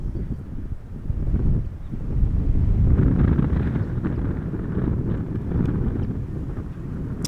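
Strong crosswind at Amsterdam Schiphol Airport buffets the microphone in a loud, steady, low roar that swells and eases without pause; no voices are heard.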